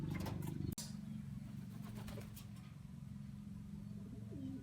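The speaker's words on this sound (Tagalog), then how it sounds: "At ito na pala yung ating ibon mga kalapatids." A racing pigeon coos in low, repeated rumbling phrases, close and steady under a faint outdoor background with occasional high bird chirps.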